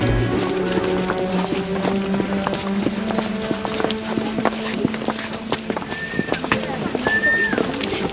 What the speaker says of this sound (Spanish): Los nuevos tranvías a caballo recorrían al trotecito las calles largas y angostas de la ciudad.